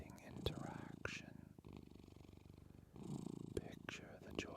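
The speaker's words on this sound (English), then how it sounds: "Purring is perhaps the most well-known form of feline communication" A domestic cat purrs steadily close by in a quiet room, a soft continuous rumble with a few brief clicks and louder moments breaking through.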